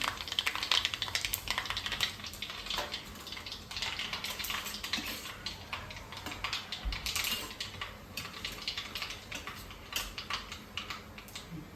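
Mustard seeds crackle and pop in hot oil as a dense, irregular patter of sharp little clicks that keeps going steadily throughout, with no voices.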